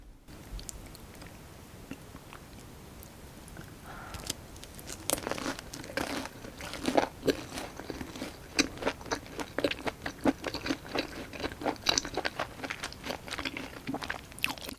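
Close-up crunching and chewing of a pan-fried, crispy mushroom from gambas al ajillo made from a meal kit, with repeated crisp bites and crinkly mastication sounds continuing steadily for several seconds, no talking.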